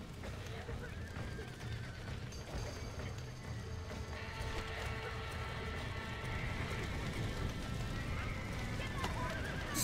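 Horses whinny and their hooves clatter as they flee a burning barn in a video game, set against a steady crackling roar of fire and with people talking throughout.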